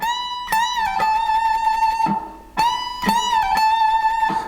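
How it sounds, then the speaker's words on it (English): Electric guitar lead from a song's solo, a high sustained note bent up and back, played twice with a short gap between phrases, bright and close with no talking. "Now this bend that we're going to throw onto the end of this sounds like this."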